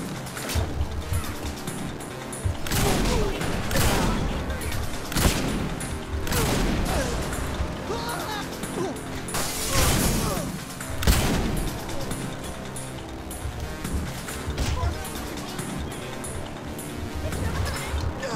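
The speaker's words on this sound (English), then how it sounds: "Got the shotgun." Dense, continuous shotgun and weapon fire in the video game Saints Row IV, loud bursts layered over game music and effects throughout, with a player talking over parts of it.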